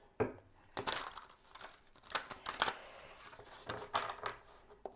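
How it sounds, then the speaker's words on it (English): Large tarot cards shuffled by hand, giving a string of crisp riffling and crinkling bursts in quick irregular clusters, close and fairly quiet, with no talking. "I'm just doing a couple of little shuffles here for you to see that I'm not ignoring your cards"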